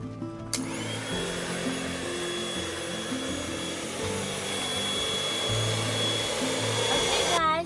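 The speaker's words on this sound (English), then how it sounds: "this is a built-in pump for the air mattress. So I'm gonna turn it on and let's see the magic happen." A built-in electric pump inflates an air mattress, giving a steady, continuous motorized whir with a faint whine that holds close and loud for several seconds, starting and stopping abruptly.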